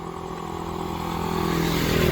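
A motorcycle coming down a narrow lane on a small-town road in Iloilo Province, Philippines, its engine droning steadily and growing louder as it draws nearer, alone with no talking.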